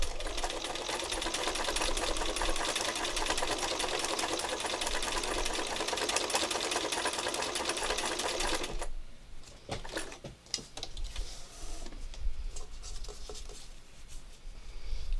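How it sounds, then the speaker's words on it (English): A sewing machine stitches around in a circle to tack down a fabric pupil, running as a steady, dense whir for about nine seconds before it stops, followed by quieter handling clicks and rustles. "And then what I want to do is just stitch around in a circle."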